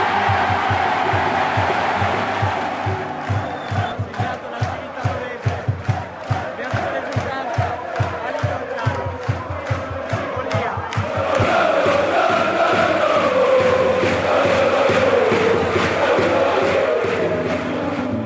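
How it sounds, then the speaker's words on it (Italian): Sambenedettese football supporters in the curva stand at a match make rhythmic, pounding claps and chants that swell into a broad, sustained roar from the crowd, loud and filling, with no break. "Almeno un boato vissuto dalla curva."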